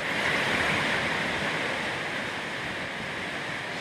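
Water rushes steadily at the Cirque de Baume, a close, continuous broadband roar like a stream or small cascade, with no voices over it.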